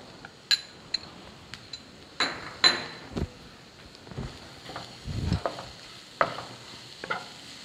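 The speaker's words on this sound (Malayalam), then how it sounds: "നന്നായിട്ടൊന്ന് മിക്സ് ചെയ്തിട്ട് എടുക്കാം" Masala mixture being stirred in a pan, with sparse spoon scrapes and sharp metallic clinks spread irregularly over a faint background hiss.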